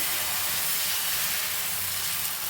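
Ragi and green dal dosa batter hits a hot pan with a loud, continuous sizzling hiss that holds steady and close for the whole moment.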